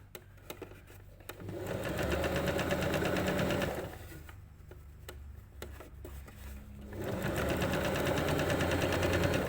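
A sewing machine stitches a narrow rolled hem on cotton fabric, running in two steady, loud bursts of rapid rhythmic whirring and ticking with a quieter pause between them, heard up close.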